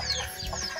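Domestic chickens and a rooster cluck in a brief, close burst of short, overlapping calls, with no talk over them.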